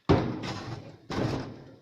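An old RV furnace thrown out of a doorway makes two heavy crashing thuds about a second apart, each with a rattling metallic tail that fades out, loud and close.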